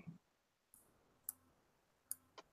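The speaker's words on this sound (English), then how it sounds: "I am clicking." Computer mouse clicks, four or five sharp isolated taps spaced irregularly, quiet and close in an otherwise hushed room with no speech.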